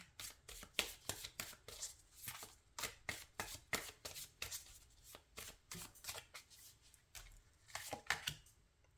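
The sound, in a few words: tarot cards being handled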